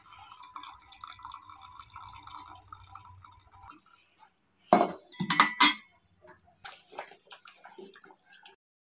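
Cooked brinjal is mashed with a little water for kathirikkai kadayal. Quiet dripping and faint clinks give way to a short burst of scraping, clattering strokes against the vessel, then sparse soft taps.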